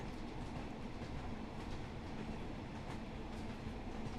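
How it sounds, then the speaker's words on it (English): British Rail Class 142 Pacer diesel mechanical multiple unit in provincial blue livery, in Train Sim World 4, giving a steady loud rumble of engine and rolling wheels with a low hum throughout and no talk. "This train is the British Rail Class 142 diesel mechanical multiple unit in the provincial blue livery"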